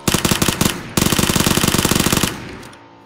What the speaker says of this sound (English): I just gotta shoot him suppressed.